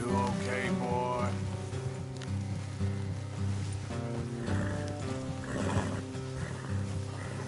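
In Red Dead Redemption 2, a horse whinnies amid hoofbeats while steady music plays underneath and a voice speaks briefly.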